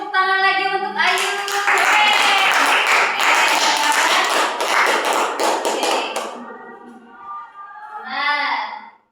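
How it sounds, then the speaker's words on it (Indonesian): Classmates in a classroom give a student a burst of clapping that lasts about five seconds, with sharp tapping hand claps. It fades out into quieter voices and some talking afterward. "beri tepuk tangan lagi untuk Ayu"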